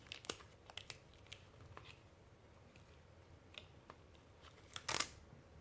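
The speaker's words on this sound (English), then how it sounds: "Tape that down." Adhesive tape is torn and pressed down over plastic pleats on a resin candle lamp form, giving faint crinkles and small ticks and then a sharper ripping burst near the end.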